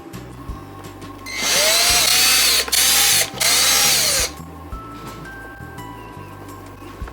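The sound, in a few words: CNC router machining carbon ESC adapter plate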